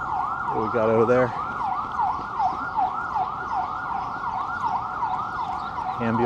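Ambulance siren wailing in traffic on Central Park West in New York City, a continuous rising-and-falling tone heard from mid-distance over street hum, with brief horn-like blasts at the start and end.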